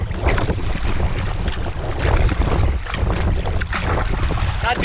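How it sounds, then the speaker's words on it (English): Steady wind buffeting the microphone on a small lake during a solo spring canoe trip, a loud continuous roar and rumble with light water sounds beneath and no talking. "Got a bit of a wind now, coming at me broadside."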